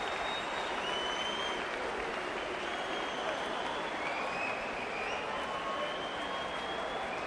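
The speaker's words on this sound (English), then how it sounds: "Gavin Rees and Gary Buckland, soak up that applause" Sustained arena crowd applause after the final round of the Gavin Rees versus Gary Buckland boxing bout, a dense steady roar of clapping and cheering with occasional whistles, loud and continuous throughout.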